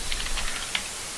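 Fast typing on a computer keyboard, a short burst of light, rapid key clicks heard close and alone over a soft background hiss.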